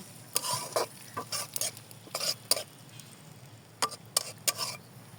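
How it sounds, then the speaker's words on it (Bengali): Scattered scraping and clinking of a spatula stirring chopped onions in a pan of oil left from frying rohu fish, quiet, with a faint low sizzle underneath. "পেঁয়াজগুলো লাল লাল করে ভেজে নেব"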